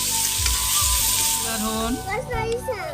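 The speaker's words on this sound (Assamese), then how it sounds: "তুমি ভাজি থাকা।" Food fries in a pan with a loud, continuous sizzle and hiss, and stirring thuds sound through it; voices talk over the later part.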